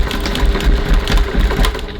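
A sewing machine stitches a 1 cm seam on a travel sling bag at stitch length 2.4, a continuous close mechanical whir with a dense, rough texture.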